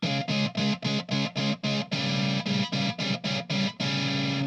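Electric guitar played through a Boss HM-2W heavy metal distortion pedal, loud saturated chords in a chugging rhythm of short repeated stabs broken by two longer sustained chords, alone with no talk.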